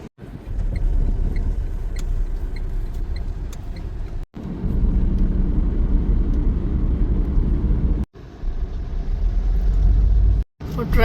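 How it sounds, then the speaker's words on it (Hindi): Heavy road traffic on a hilly jungle safari route near Mohaan, Jim Corbett, forms a loud continuous rumble of passing engines and wind close by, broken by a few brief dropouts, with a voice talking over it. "और ट्रैफिक बहुत ज़्यादा है"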